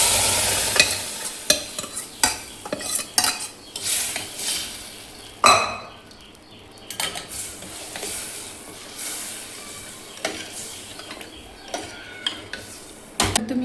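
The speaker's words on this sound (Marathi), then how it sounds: "आता याच्यामध्ये डाळ टाकूया." Lentils (dal) are tipped into a cooking pot and stirred, a spoon scraping and clinking against the metal over a soft sizzle in a home kitchen, with no talking.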